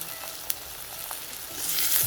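Curry leaves, green chili and grated ginger sautéing in hot oil, a steady soft sizzle with a sharp pop near the start that grows a little louder toward the end.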